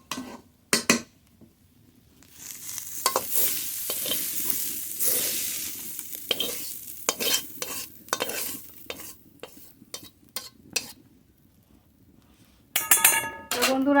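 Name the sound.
stir-frying flat beans with spring onions in a pan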